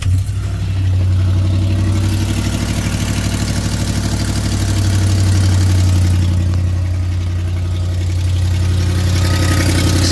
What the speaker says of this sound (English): Sounds like an exhaust leak